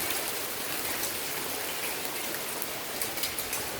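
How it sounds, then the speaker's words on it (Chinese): Hail falling in Sydney makes a dense, steady hiss of countless small impacts, with a few sharper hits standing out near the end, and no voices. "又下冰雹了！"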